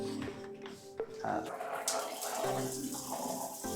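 Water sprays from a newly installed shower in a renovated bathroom, a steady hissing rush running throughout while a voice speaks briefly over it.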